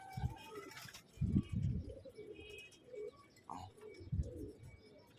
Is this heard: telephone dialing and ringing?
no